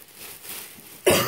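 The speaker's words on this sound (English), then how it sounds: "Sorry, I'm coughing so much." A single sharp cough bursts out after a second of quiet room noise, loud and close.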